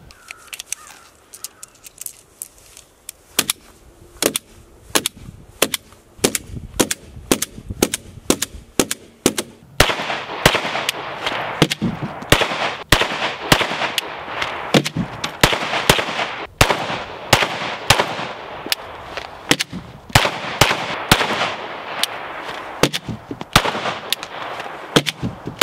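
An FN 509 T pistol fires outdoors in a long series of sharp, loud shots. Some shots come in quick strings, others are spaced apart, and they overlap with other gunfire echoing across a range, with no talking.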